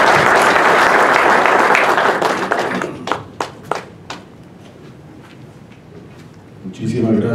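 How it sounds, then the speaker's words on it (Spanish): Audience at a poetry book launch applauding as the author is introduced, a dense burst of clapping that fades after about three seconds into a few scattered claps and quiet, before a voice begins. "Démosle un aplauso"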